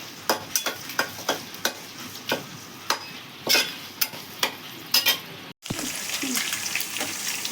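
Ingredients with a couple of bay leaves stirred in a pan, crisp spatula scrapes repeating every half second or so over a steady sizzle, then a brief break and a louder, denser frying hiss.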